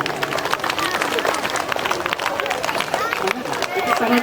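Audience applause at a school annual function, steady dense clapping from a crowd sustained throughout, mixed with murmuring voices and background hubbub.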